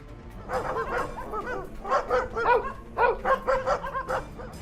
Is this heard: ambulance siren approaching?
no